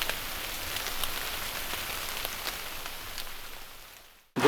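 Rain patters steadily on surfaces outdoors by a lake, a dense close hiss with scattered drop ticks that gradually thins and fades, ending in a sudden brief thump.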